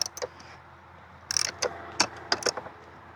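Tool work on a bolt holding a Cadillac Northstar coil pack: a few scattered ratcheting clicks and short metallic ticks, close and fairly quiet, in sparse bursts.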